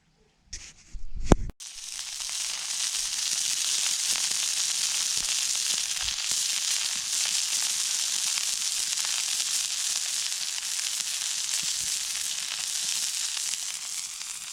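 Breakfast fries in a pan outdoors in a Suffolk wood: a few handling clunks, then a steady, close sizzle with scattered crackles that keeps going evenly to the end.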